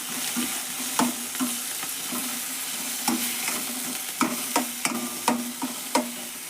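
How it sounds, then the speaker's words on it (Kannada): Chilli powder sizzles in hot oil while a spoon scrapes and stirs the pan in quick, uneven strokes; no talking. "ಸ್ವಲ್ಪ ಹಾಕೀನಿ ಎಣ್ಣೆ ಒಳಗೆ ಫ್ರೈ ಮಾಡ್ತೇನೆ ನೋಡಿರಿ"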